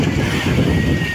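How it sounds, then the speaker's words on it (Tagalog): Strong wind buffets a boat at sea whose crew is struggling with the rudder, a steady loud rushing roar with low rumbling gusts and no talk. "Ang lakas ng hangin."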